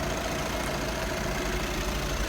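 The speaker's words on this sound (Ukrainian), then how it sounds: "Моторчик робить як часи." A Volkswagen Passat B7 engine idles steadily at close range, an even low rumble with a faint rhythmic ticking and no voices.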